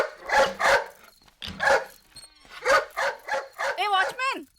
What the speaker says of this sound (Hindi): निमी भौंक रहे हैं ना, उसे ले जा सुसु पार्टी के लिए